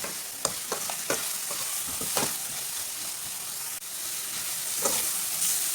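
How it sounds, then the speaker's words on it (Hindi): Turmeric and ajwain fry in a pot for a potato and onion curry, making a steady sizzle and hiss. A spoon stirs and clacks against the pot in irregular clicks over it. "अच्छी तरह मिक्स करके 2 मिनट तक पका लेंगे।"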